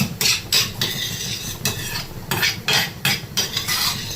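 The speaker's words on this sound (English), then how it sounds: "extra pulp of cucumber and tomatoes which we had taken out, and we will saute it" Cucumber and tomato pulp sautéed in a pan, heard as repeated scraping stirs of a utensil against the pan in short bursts over a faint sizzle, close and fairly loud with no talking.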